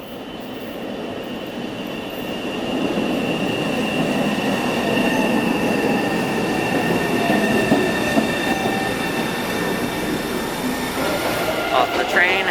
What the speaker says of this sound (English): we get to ride a new train again, theoretically.